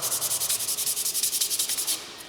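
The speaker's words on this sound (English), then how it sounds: "I'm going to start with some 220 and just hand sand this paddle" A wooden paddle is hand sanded with 220 grit sandpaper in quick, regular back-and-forth strokes, about seventeen hissing rubs in a steady rhythm, close and clear, then stopping.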